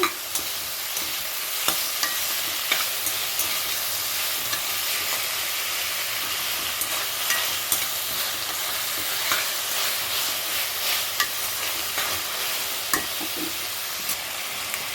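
Tomatoes and coriander sautéing in a pan, a dense, steady sizzle with frequent clicks and scrapes of stirring, close and loud throughout with no voice.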